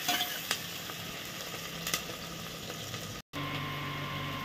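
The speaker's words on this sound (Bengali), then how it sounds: "এখন অল্প নেড়ে দিব" Chopped green chilli and vegetables frying in a pressure cooker over high gas, a steady sizzle with a few spoon scrapes as they are stirred, close, with a brief dropout near the end.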